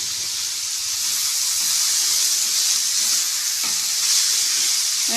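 Paithangai poriyal, green beans with green chillies and coconut, sizzling in a pan: a steady, loud frying hiss throughout, with a couple of faint scraping stirs near the end.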